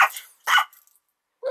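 A small dog gives three short, sharp barks close by, with brief silent gaps between them.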